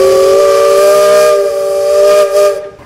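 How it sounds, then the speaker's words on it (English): A steam whistle blows one loud, sustained shriek for a few seconds, with a hiss of steam underneath as it fades. "Bill, you got a whistle."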